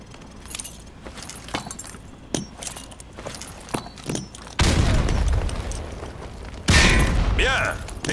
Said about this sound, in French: Lancez une grenade dans le champ de tir pour abattre plusieurs cibles d'un coup.